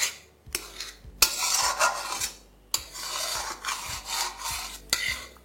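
Egg bhurji with spring onions gently stirred in a pan over low flame: repeated scraping strokes of a spatula against the pan, close and fairly quiet, with short pauses between passes and a soft sizzle underneath.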